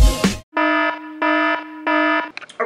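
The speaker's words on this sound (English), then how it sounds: "my alarm just went off" Kitchen timer signalling banana bread is done baking: three evenly spaced, loud electronic beeps of sustained tone, following a brief burst of noise at the start and ending in a few short clicks.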